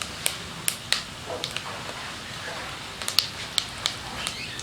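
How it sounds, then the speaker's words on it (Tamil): Star anise and bay leaf frying in hot oil for a coconut milk mushroom biryani, giving faint scattered crackles and sharp pops over a low steady sizzle, close up with no talking. "அது எண்ணெயில் நல்லா பொரியட்டும்."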